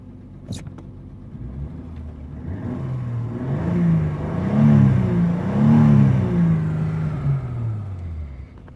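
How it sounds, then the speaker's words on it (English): BMW E30 engine revved from idle, rising to two broad swells of revving and falling back to a low idle, moderately loud and close with no talk. "Rev's pretty nice."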